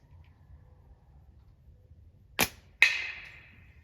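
A slingshot fitted with 9.5 bands and 22-15 tapered latex is shot outdoors at a target over 30 yards away. One sharp release crack comes first, then a second impact with a ringing metallic decay. No speech is heard.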